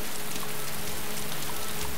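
Steady rain in the DayZ video game, a dense even hiss of drops on surfaces that holds for about two seconds with no one talking.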